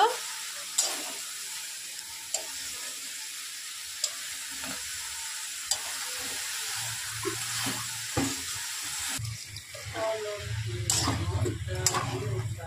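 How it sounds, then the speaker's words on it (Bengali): Sponge gourd frying with spices in a pan, a steady sizzle underneath as a utensil stirs and scrapes in irregular strokes, with occasional sharp taps against the pan rim and a louder burst of stirring near the end. "এটা যতক্ষণ না একটু হালকা লাল হচ্ছে ততক্ষণ এভাবে ভাজতে থাকবো।"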